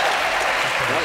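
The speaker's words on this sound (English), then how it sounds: "Give him a round of applause, ladies and gentlemen." Studio audience at a television game-show taping claps and cheers, a loud, dense burst of sound with no break across the short moment.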